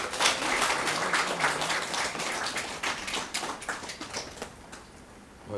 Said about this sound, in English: Round of applause for Pooja.